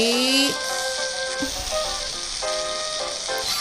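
African-style chicken sizzling in oil in a home kitchen pan, a continuous crackling fry with clinks and utensil sounds, faint tonal background music running beneath.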